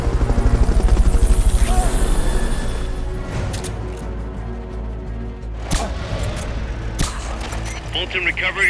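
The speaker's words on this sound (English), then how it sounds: "Fulton recovery helicopter is complete." Fulton recovery helicopter in the Metal Gear Solid: Peace Walker game chops loudly at first with a strong rotor beat, then fades away as scattered sharp gunfire-like cracks and bursts take over.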